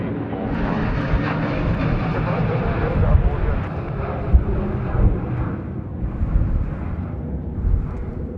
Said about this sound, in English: the Jetstar Jaffa now rolling runway 34 right